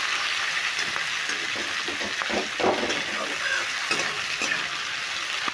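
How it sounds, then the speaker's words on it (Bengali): Onions and tomatoes frying lightly in a pan for a duck egg curry, a steady close sizzle with scattered stirring clatters throughout and no talk. "এবার পেঁয়াজ টমেটোগুলো আমি একটু হালকা করে ভেজে নেবো"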